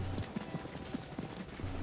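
Brindle racehorse hooves in Red Dead Redemption 2 near Riggs Station, a steady rhythmic clip-clop of hoofbeats at moderate loudness with no talking over them.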